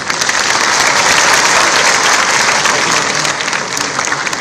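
At a ceremony handing out job joining letters, a large audience claps in loud, sustained, even applause that fills the hall for the whole stretch.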